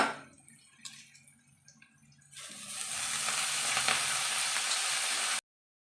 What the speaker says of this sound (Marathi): आता आपल्याला हे स्वच्छ निवडलेली कट केलेली भाजी घालायची आहे यामध्ये